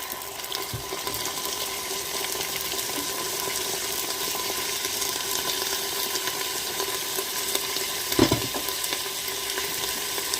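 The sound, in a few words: lentils added and frying in a Cookeo multicooker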